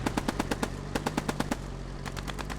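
Automatic gunfire in the World War II shooter Post Scriptum during a large multiplayer battle: rapid bursts of machine-gun shots in quick regular succession, a pause, then another burst, distant-sounding over a steady low rumble.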